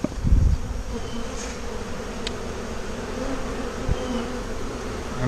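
Honey bees swarming around an old oak tree, a steady dense buzz filling the air at moderate level, with a few brief knocks and rustles nearby.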